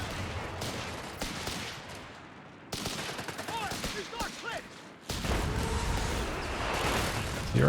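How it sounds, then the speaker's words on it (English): Anti-tank guns firing in a Company of Heroes 3 2v2 battle: a dense, loud barrage of overlapping shots and blasts, with whistling projectiles in the middle stretch, dipping briefly before surging back heavier and close. "AT guns piling on the damage."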